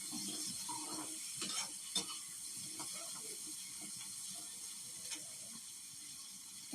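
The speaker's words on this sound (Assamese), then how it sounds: "এয়া যিহেতু বাটাৰত ফ্ৰাই কৰিছোঁ, আৰু বাটাৰত ফ্ৰাই কৰিলে জানেই খুব খাবলৈ সোৱাদ হয়।" Okra fries in butter in a pan with a steady, even sizzle that runs throughout, broken by a few light scrapes and clinks of stirring.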